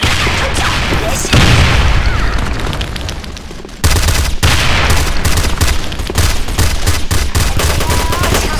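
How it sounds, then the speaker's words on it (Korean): Grenade explosions in the shooter game Sudden Attack, loud booming blasts amid dense rapid gunfire, continuous and close, with occasional voices in the game. "지금 수류탄 터지거든요."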